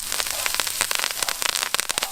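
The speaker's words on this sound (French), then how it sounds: "Je parle fort parce que la plancha fait du bruit. Regardez comment ça crépite bien." Mussels with thyme and bay leaves sizzle on a Petromax plancha, a dense, loud crackle of sharp spitting pops and fizzing over a continuous hiss, close by.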